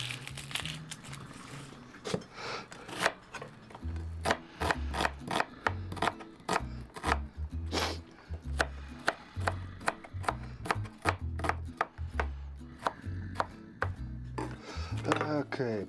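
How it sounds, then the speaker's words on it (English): An onion being chopped with a knife on a cutting board while making pizza, with a long run of quick, close, irregular knife taps, and speech in the background between the cuts. "I need to cut my onion"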